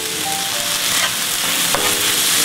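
Pork chop stuffing, seasoned with salt and pepper, sizzles loudly in a pan under brief stirring scrapes and clinks, a continuous close hiss with no voices.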